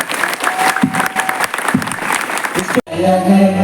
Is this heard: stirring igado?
no